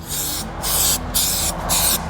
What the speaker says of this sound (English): Then you're gonna take your primer, your spray primer. You can brush it on or spray it on.